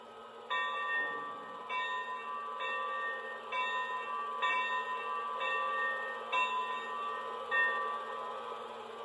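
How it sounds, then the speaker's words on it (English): A Lionel Legacy Santa Fe 4-8-4 Northern model locomotive rings its bell, a steady series of evenly spaced metallic clangs, about one per second, moderately quiet and clear with no talking. "Here is the bell."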